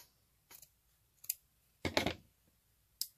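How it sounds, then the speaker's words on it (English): Scissors snipping flat lace trim, a few crisp clicks followed by one longer cutting crunch and a final snap, close and quiet with no talking. "So I'm just going to cut off a little bit here."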